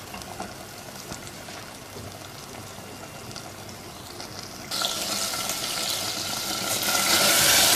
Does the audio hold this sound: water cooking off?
yes